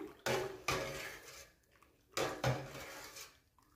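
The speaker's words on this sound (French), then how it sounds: "Vous remuez un petit peu pour bien mélanger le tout." A homemade laundry detergent mixture being stirred in a container, with four sharp clattering bursts of utensil against the vessel separated by short pauses.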